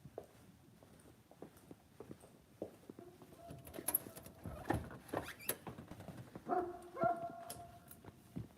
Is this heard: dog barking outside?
yes